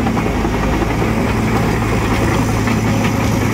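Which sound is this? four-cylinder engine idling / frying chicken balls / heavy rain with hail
four-cylinder engine idling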